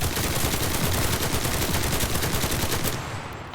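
Submachine gun in Enlisted firing one long sustained burst of rapid automatic shots, loud and close, cutting off just before the end with a brief tail.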